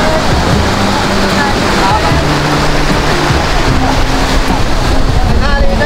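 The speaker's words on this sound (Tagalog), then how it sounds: "Ito guys ay double engine 4DR5 ang makina." A bangka boat driven by twin 4DR5 engines runs steadily, its dense, loud engine drone holding throughout with low humming tones and a rush of water and wind noise.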